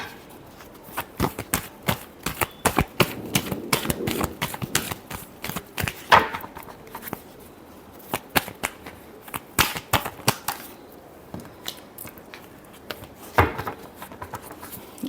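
Tarot cards shuffled by hand, a long run of crisp, rapid riffling clicks and snaps in irregular bursts, close and fairly quiet with no talking.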